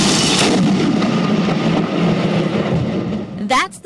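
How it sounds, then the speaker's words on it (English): Lightning strikes a building: a loud, sustained crackling roar with broadband rumble fills the moment, fading slightly before a brief burst of sharp noise near the end. "That's the sound of lightning hitting a building."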